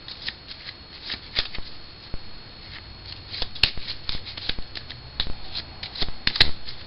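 A deck of playing cards is overhand shuffled close by, giving a run of soft irregular riffling flicks and light slaps that come in quick uneven bursts.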